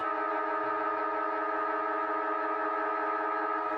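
A loud, sustained quarter-time siren at an Australian football match blares at a steady pitch, a single continuous tone with no talking over it.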